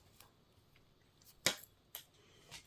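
Scissors snip through white knitting yarn at a colour change in a top-down V-neck sweater, giving one sharp close cut followed by a couple of fainter snips in a quiet room.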